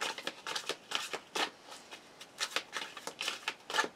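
Tarot cards from a Crow deck being shuffled by hand, a quick series of crisp riffling bursts in an uneven rhythm, close and fairly loud with no talk.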